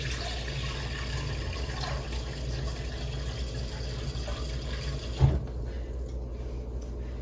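Water from a tap pours steadily into an Instant Pot in a home kitchen, a continuous rushing fill that cuts off abruptly near the end with a brief knock.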